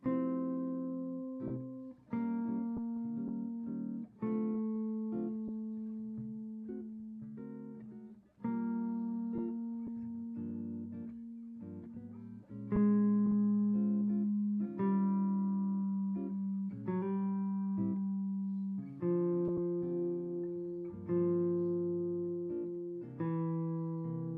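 A plucked guitar line of single notes and double stops plays over a steady backing track with bass and chords, no voices.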